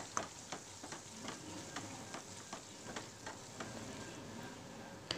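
Fish biryani masala sizzles in a pan as a spoonful of vinegar goes in, giving a continuous quiet frying hiss broken by light crackles and ticks, close and with no talk.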